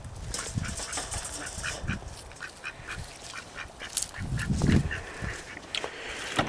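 Muscovy ducks in a predator-proof duck run give repeated soft quacks and honking calls, near and moderately loud over a low background hum.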